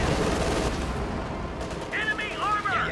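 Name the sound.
Panther tank's top machine gun firing in video game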